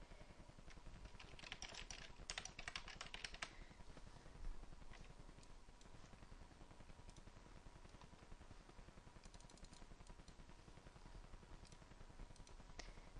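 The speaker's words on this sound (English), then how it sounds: "I'll type first." Typing on a computer keyboard while making a poster in Excel: quiet, fast clicking keystrokes in bursts, close up, with a low steady background hiss and no talk.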